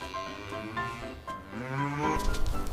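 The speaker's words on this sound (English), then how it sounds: "This is a cow." A cow moos in long, low, drawn-out calls, fairly close and alone, with a louder rougher bellow near the end.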